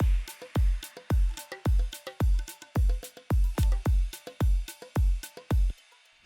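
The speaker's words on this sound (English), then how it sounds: "Let's start with the drums." Electronic drum rhythm from a song produced in Ableton, with a steady booming kick on every beat and lighter percussive hits between, played alone and evenly spaced throughout.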